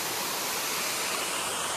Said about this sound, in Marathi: इकडे हा असा वॉटरफॉल छान